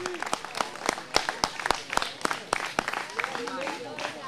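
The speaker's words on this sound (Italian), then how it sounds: "Quindi un applauso per tutti gli alpini e per i loro capi in modo" Applause at an outdoor torchlight gathering in honour of the Alpini mountain troops, scattered sharp claps from a modest crowd with people talking and calling out underneath.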